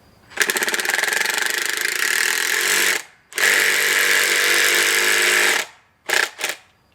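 A power drill drives a screw into a wooden birdhouse, two long steady whirring bursts separated by a short pause, then two brief final pulses, close and loud with no talking.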